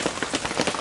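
Steady rain pattering on a porch roof under construction, a dense close hiss of drops alone with no voices.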